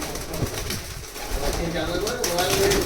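Pigeons of the Teddy and Imamdin breeds coo softly in a loft, a steady low murmur of calls running throughout with background noise and a voice talking over them.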